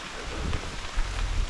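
Rain falls steadily behind an old barn on an abandoned property, giving a dense, even hiss for a brief moment with no voices.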